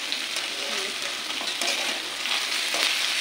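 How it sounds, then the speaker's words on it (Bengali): Potatoes frying in hot oil in a wok (kadai), a steady close sizzle and crackle with occasional stirring scrapes, no voices. "তারপরে আলু ছেড়েছি তেলের মধ্যে, তাও লেগে গেছে।"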